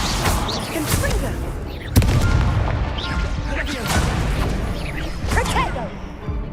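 A Confringo spell blast in the Hogwarts Legacy video game: booming explosive impacts and swooshing magic bursts in busy combat, with voices talking over the fighting.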